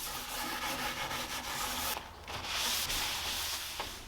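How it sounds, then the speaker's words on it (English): Coarse steel wool scrubs paint stripper afterwash into an antique painted dresser, a steady close rasping rub broken by a few brief pauses, with no talking. "I'll use this paint stripper afterwash by Clean Strip with some coarse steel wool. I'll scrub this in"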